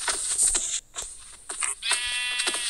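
Blocky cows moo in Minecraft Pocket Edition, with several short, loud, buzzy animal calls in quick succession and brief gaps between them.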